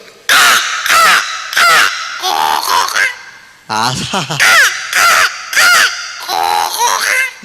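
A man on a comedy stage imitates crow caws with his voice, a series of about ten loud, harsh, nasal caws in quick bursts, close and clear.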